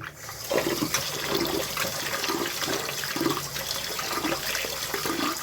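Running tap water rinsing flattened rice (avalakki) for avalakki chitranna with field beans, a steady close splashing and trickling stream that continues without a break.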